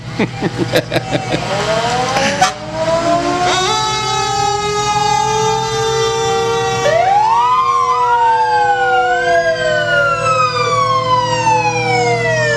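Loud fire engine sirens wailing and rising together at a county fair parade, several overlapping tones sweeping up and down after a burst of horn blasts at the start.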